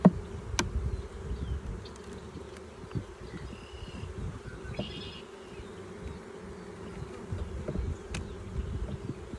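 Honeybees buzz steadily at an open hive box in a dense, continuous drone, close and moderately loud, with a few brief knocks of handling.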